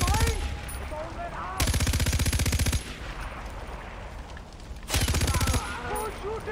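Bursts of automatic gunfire in Far Cry 4, two long rapid machine-gun volleys separated by quieter stretches of ambient game sound and scattered distant shots.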